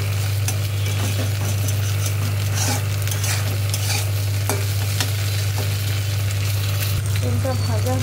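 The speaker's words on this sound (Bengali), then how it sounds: "ডিমটা ভাজা হয়ে গেছে" An egg fries in a pan with a continuous sizzle and busy stirring and scraping sounds, and a low steady hum runs beneath the whole scene.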